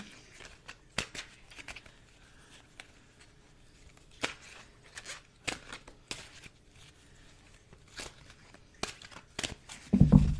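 Tarot cards being shuffled in quick bursts of soft riffling and slapping, with quiet pauses between, and a louder rustle at the end.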